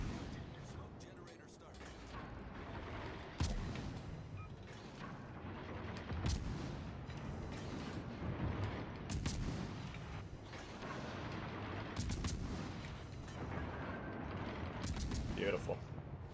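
Naval guns fire from warships in World of Warships Legends, with sharp heavy blasts recurring at irregular intervals over a constant rumbling background, while a voice talks softly underneath.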